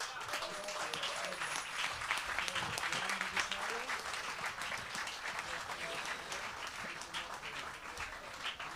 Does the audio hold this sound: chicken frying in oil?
no